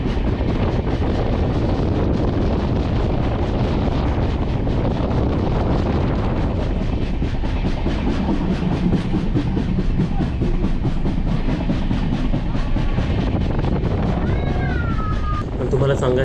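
A passenger train on the Ratnagiri to Mumbai route rumbles steadily from inside the carriage, a constant loud roar with wind buffeting against the microphone throughout.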